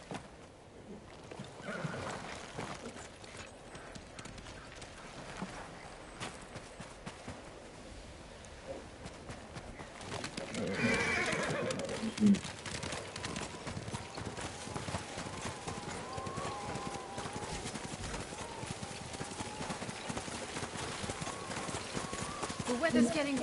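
Hooves clip-clop in a steady rhythm as a horse travels in the video game Ghost of Tsushima, with character voices talking over it and a low wind-like background, all fairly close.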